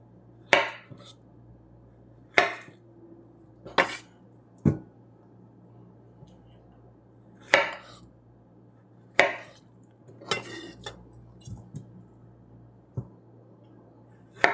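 A knife cuts a ripe banana or plantain into pieces on a board, giving about ten sharp, close chops at an uneven pace with quiet gaps between them.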